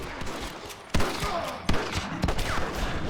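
Gunfire in Red Dead Redemption, a fusillade of loud sharp shots with several big close blasts amid scattered smaller reports and ricochets, continuing steadily throughout.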